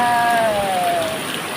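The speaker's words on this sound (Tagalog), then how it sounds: "Malakas yung ulan." Dense, steady rain hissing continuously, loud and close, with a faint tonal whine drifting underneath.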